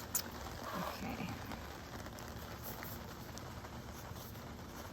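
Soft, steady rain pattering on surfaces, fairly quiet with scattered drip clicks, a faint murmur briefly underneath.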